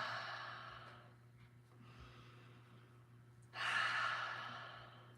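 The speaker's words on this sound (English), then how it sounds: "Take a deep breath." Slow deep breaths during a guided stretching and wellness routine, a long exhale followed by a louder, fuller breath near the end, close and soft with no talk.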